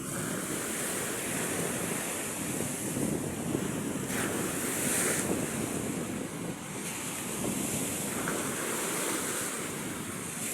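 Rough sea waves surge and wash steadily around two boats straining to tow a very heavy load, loud and continuous with gusting wind buffeting the microphone throughout.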